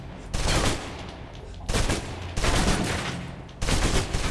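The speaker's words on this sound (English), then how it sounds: "Still using cover, take some shots at the target" Bursts of gunfire from a shooting video game, fired blind at a target from cover, come in four loud, separate volleys with short pauses between them and no talking.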